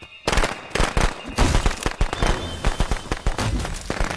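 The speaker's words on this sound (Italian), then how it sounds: "Boom, lanciati petardi!" Firecrackers thrown in the Friday the 13th video game crackle in a rapid, loud string of sharp pops and bangs, densely packed and continuous from start to finish.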